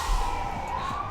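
Siren of an ambulance in a city downtown, a steady wailing tone held continuously through the short moment over low traffic rumble, moderately loud and without speech.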